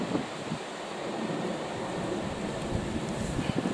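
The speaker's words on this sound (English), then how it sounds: "The wind is soughing in the trees." Wind soughing through trees during Storm Ellen, a steady broad rushing roar with gusty swells and some microphone buffeting, no voices.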